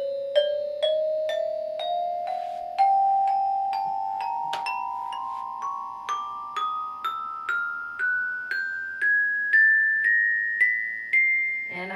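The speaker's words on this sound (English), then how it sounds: "play all of the notes in order from the lowest note to the highest note, that's called a chromatic scale." A keyboard plays a chromatic scale from its lowest note upward, about twenty separate notes struck one after another at an even, unhurried pace, each ringing briefly, clear and alone with no talk.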